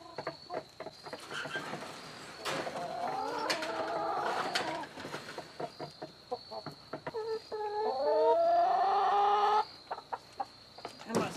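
Hens cluck and squawk inside a chicken coop, with bursts of drawn-out calls over a scatter of short clucks. The birds sound close, and several voices overlap.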